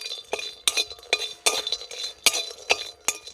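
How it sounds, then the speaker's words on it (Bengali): Spices fried and stirred in a pan for chicken tehari: a string of sharp, close clinks and scrapes as a utensil strikes the metal pan in a steady rhythm, with a faint sizzle underneath and no talking. "মশলাগুলো একটু ভেজে নেব"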